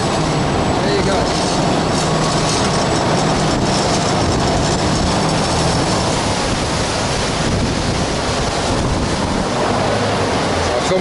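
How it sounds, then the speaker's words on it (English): A loud boat engine roars continuously and close by on a Bangkok canal, a dense, unbroken drone mixed with rushing wind and water. "the engines are very loud"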